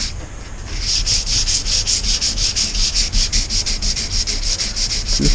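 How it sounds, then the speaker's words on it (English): Sandpaper rubs back and forth over an epoxy resin coat in quick, even strokes, close and loud, forming a steady rhythmic scratching that continues throughout. "and sand it a bit"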